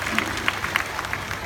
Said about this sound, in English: A round of applause for these 2 birds and their trainers, Shahir and Chanel.